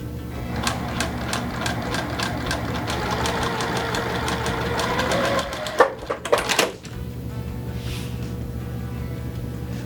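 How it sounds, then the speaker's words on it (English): A sewing machine runs at a steady hum while stitching two quilt blocks together, then slows with a few uneven mechanical clatters before stopping, leaving faint room noise. "I'm going to sew these two pieces together just so you can see that assembled"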